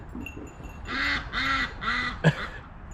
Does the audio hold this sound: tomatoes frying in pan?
no